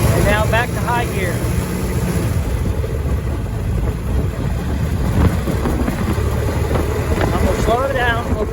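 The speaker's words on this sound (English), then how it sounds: "Give it a little gas as I stay in first gear. And now back to high gear." A Model T Ford engine runs in high gear, a steady low rumble with some wind noise, heard under someone talking throughout.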